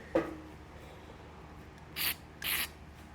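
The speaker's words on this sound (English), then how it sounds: "let me just go ahead and spray that down" Penetrating oil sprayed onto an 1883 Singer Improved Family sewing machine during disassembly: two short hissing bursts from a spray can, close by, following a faint knock in an otherwise quiet room.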